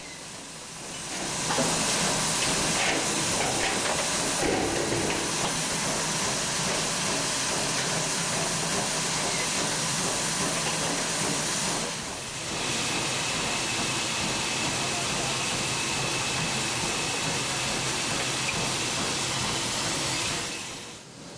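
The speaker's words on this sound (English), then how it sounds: "734 is large for a 280 and puts on a good show over this mountainous former mainline trackage." Steam locomotive 734, a large 2-8-0, working over mountainous former mainline track, a loud continuous roar and hiss of steam sustained for about twenty seconds, briefly easing midway.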